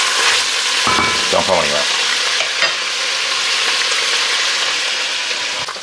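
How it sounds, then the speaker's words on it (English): Onion, bacon and hog jowl frying in a pan, a steady loud sizzle throughout with a brief spoken line and some stirring clatter near the start. "our onion and our bacon and the hog jowl is cooked down nicely"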